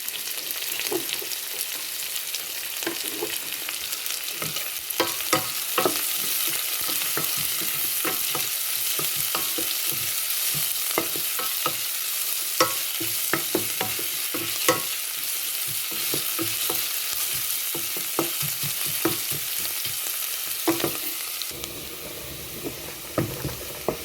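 Onions, including one whole big onion, frying with green chillies in a pan for an egg curry, with steady bright sizzling and repeated close scraping stirs throughout, no talk, easing slightly near the end.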